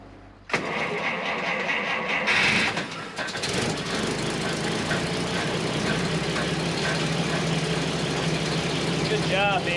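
An old engine in a wooden boat's boathouse cranks and catches with a sudden roar, then settles into a steady, loud running drone for several seconds, with people talking briefly over it.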